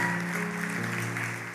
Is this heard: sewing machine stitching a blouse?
no